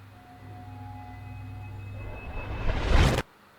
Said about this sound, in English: Here we've added a riser just at the very beginning.